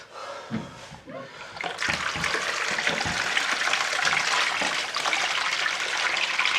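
Water gushes and splashes steadily as it flushes small bits of debris out of the filter bowl of an Indesit washing machine with an F05 fault, starting quietly and then running loud and continuous.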